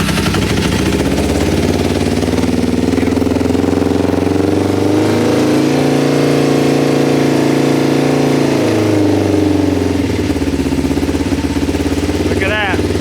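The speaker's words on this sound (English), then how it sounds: "Look at that. We have a running bike." A motorcycle engine, one of several old bikes, catches and runs steadily after being turned over, a loud close idle with a low throbbing rumble that dips and rises once, while a person talks over it.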